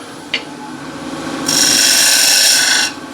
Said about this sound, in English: So what I'll do is just touch up the gouge now for the last pass.